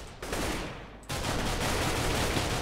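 Shotgun blasts in a Minecraft CS:GO-style game mode, a short burst of close, loud gunfire with a sharp onset partway through, no speech.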